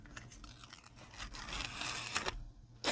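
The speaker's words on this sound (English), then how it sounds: "I take off the little release paper" Release paper peeled slowly off a diamond painting canvas, a close, dry crackling tear that builds over a few seconds and ends with a louder rip.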